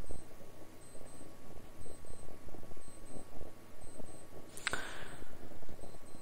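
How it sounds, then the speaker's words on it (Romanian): A digital alarm clock rings in quick, rapid pulses, loud and close, over a steady hum and faint background clatter, with a short sharp click near the end. "și îmi sună ceas"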